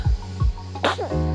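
A single sharp sneeze bursts out near the microphone amid a quiet, low-humming room.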